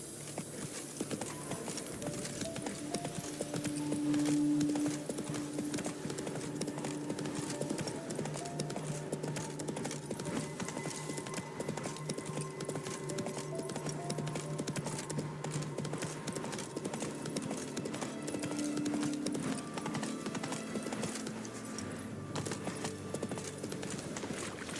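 Roach, a horse in The Witcher 3, gallops with steady rapid hoofbeat clip-clop through the whole stretch, a whinny rising briefly, all over dense game background sound.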